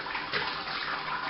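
Water poured over the grain bed of a Robobrew during a fly sparge, a continuous soft splashing trickle at moderate volume with slight surges, no talking.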